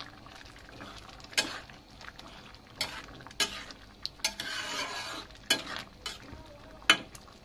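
Egg and potato curry cooking in a pan at home, with a soft ongoing sizzle broken by sharp scrapes and clinks of a spoon stirring against the pan.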